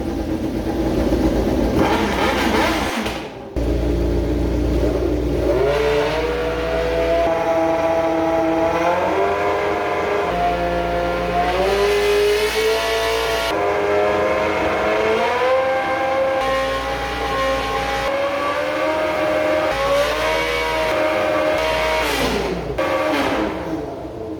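Loud V12 engine revving through exhaust headers, first stainless steel then titanium, with repeated rising and falling revs, a brief cut near the start, and sustained throaty drone throughout, close and alone.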